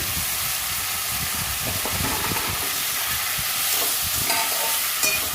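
Boiled, cut potatoes for a pumpkin and fish curry are stir-fried in hot oil, producing a loud, continuous sizzle with repeated low spatula scrapes and knocks against the pan.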